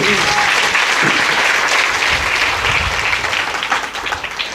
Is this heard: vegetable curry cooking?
no